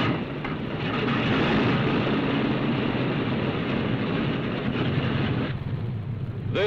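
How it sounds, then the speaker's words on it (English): A B-36 bomber's huge Pratt & Whitney piston engines roar in a loud, steady drone that holds evenly for several seconds, then dips briefly near the end. "when the huge Pratt & Whitney engine turns over and starts burning up fuel in almost unbelievable volume"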